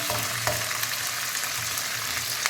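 Tomatoes dropped into a pan of frying onions, chillies and curry leaves for Rayalaseema vaggani, giving a steady close hiss of sizzling oil with a few stirring clinks.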